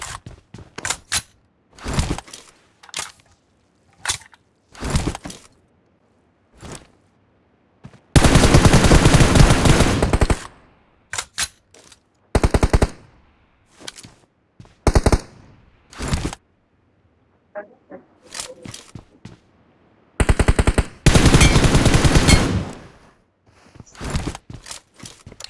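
Gunfire in a 2v2 first-person shooter game: sharp single shots and sustained automatic bursts, loud and close, with short silent gaps between volleys.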